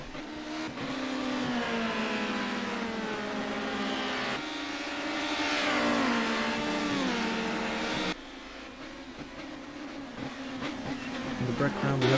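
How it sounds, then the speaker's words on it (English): Touring race cars run side by side on a high-speed ring, their engines whining with rising and falling pitch as they shift gears, loud and sustained, with a commentator talking over them. "In the background we have 2 cars side by side."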